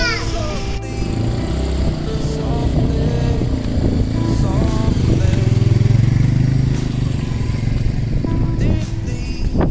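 Motorcycle engine droning steadily while riding along a winding mountain road between Lachen and Lachung in Sikkim, with wind noise and faint voices in the background.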